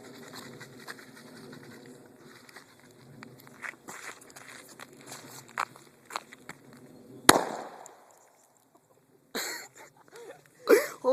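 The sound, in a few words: homemade baking soda and vinegar bottle grenade bursting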